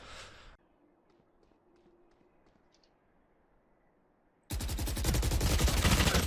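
Gunfire in Valorant: a brief burst opens, a quiet lull follows, then loud, rapid automatic fire returns and holds to the end.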